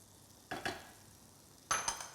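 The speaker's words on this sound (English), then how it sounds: "into that pan we'll add our butter. Allow that just to melt a little." Butter hits a hot frying pan in two separate bursts of sizzle, each a sharp crackling spit that fades into a soft hiss, with quiet gaps between and no talking.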